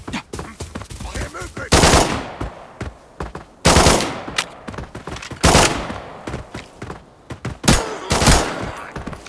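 Gunfire in the Arena Breakout game: several loud, sharp bursts of rapid automatic fire a couple of seconds apart, close and punchy, with quieter clatter and movement between them.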